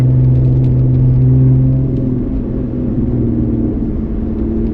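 A 2020 Lotus Evora GT sports car with a 400-horsepower engine drives along a hill road, giving a steady, loud engine drone and rumble with a sustained low tone easing off partway through, with no talk.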